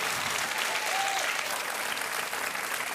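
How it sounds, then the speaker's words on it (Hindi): Steady, even applause from a studio audience at a Hindi quiz show, sustained throughout at moderate volume with no speech over it. "ताली बजती रहनी चाहिए गुंजन के लिए"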